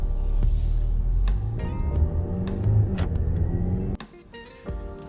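A 2024 Mazda CX-90 plug-in hybrid accelerating in sport mode, a steady loud engine drone and road rumble from inside the cabin with rising tones and a few knocks, dropping off abruptly near the end.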